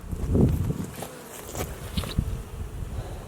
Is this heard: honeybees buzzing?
yes